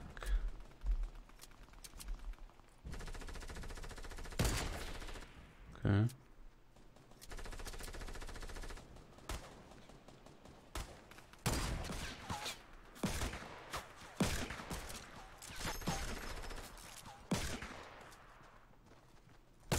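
Gunfire rings out in the Fortnite Battle Royale video game, repeated bursts of shots and single blasts scattered across the clip amid game sounds, with someone talking at times.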